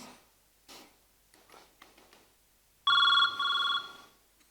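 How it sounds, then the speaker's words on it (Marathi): A mobile phone rings loud and close in two repeated electronic tone bursts after a stretch of quiet with faint shuffling noises. "तुमचा फोन वाजतोय."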